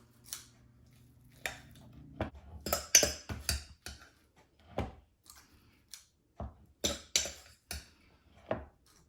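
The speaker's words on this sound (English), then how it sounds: "I'm gonna use a large stainless steel scoop to put our filling" A large stainless steel scoop clinks and scrapes against a pan while a ham and broccoli filling goes onto crescent roll dough, a string of close, sharp metallic taps and scrapes in an irregular rhythm, with no talking.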